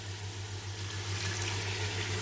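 Water splashing and hissing into masala frying in a pan for kadhi pakora, a continuous sizzling wash with a low steady hum beneath, alone without talk.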